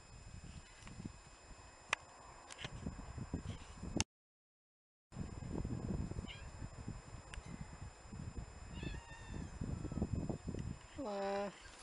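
A cat meows several times in a garden by a peach tree, faint and fairly close, mixed with rustling and handling noise, with a brief silent gap before a clearer drawn-out meow near the end.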